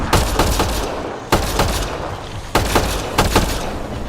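Gunfire bursts from the shooter game Mass Effect: Andromeda, loud and close, coming in rapid clusters of sharp cracks with short gaps between volleys.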